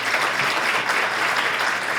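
Steady, even applause from a seated audience at a business talk on entrepreneurship and raising capital in Ecuador, many hands clapping in a continuous wash with no voices over it.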